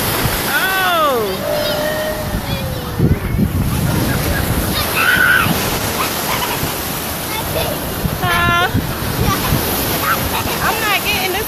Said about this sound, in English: These waves is kind of rough.